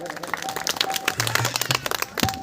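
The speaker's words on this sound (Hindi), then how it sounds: "ताली बजा करके स्वागत।" A devotional audience applauds to welcome the narrator at a Mahabharata katha gathering in a village, a brief burst of scattered clapping mixed with voices.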